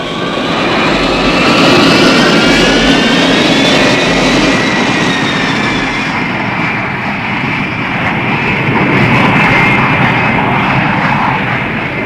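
An airplane engine roars at full throttle in a steady, loud, dense drone with a slowly shifting pitch, continuous throughout with no pauses.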